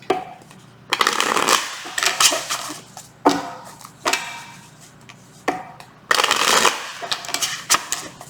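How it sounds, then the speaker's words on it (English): Tarot cards being shuffled by hand, with several bursts of riffling and crisp card slaps separated by short pauses, close and fairly loud with no talk. "Last shuffle."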